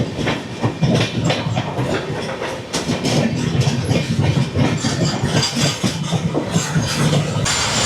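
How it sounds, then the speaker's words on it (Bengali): Sairang Express pulling out of Guwahati station, a loud, steady rumble of rolling stock with rhythmic clickety-clack of wheels over rail joints and a low engine drone running continuously throughout. "গুয়াহাটি স্টেশন থেকে প্রায় 1 ঘন্টা 26 মিনিট দেরিতে আমাদের সাইরাং এক্সপ্রেস ছাড়লো তার পরবর্তী স্টেশন হোজাইয়ের উদ্দেশ্যে"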